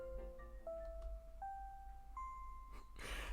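A bell rings in the Pokémon Violet video game, a series of clear chime tones stepping upward one after another, each held briefly, then ending in a burst of brighter noise, with no talking over it.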